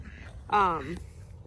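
A backyard duck gives a single loud, nasal quack close by during cold weather, the brief call standing out above a faint low background.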